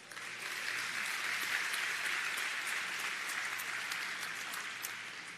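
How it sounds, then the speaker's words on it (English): An audience at a county State of the County address applauds the county staff, a dense and steady round of clapping that swells quickly, holds evenly and eases off slightly at the end. "please give them a round of applause as well."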